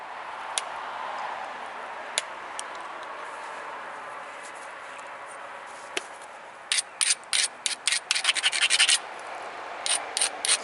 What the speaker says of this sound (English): I like this sandstone grinder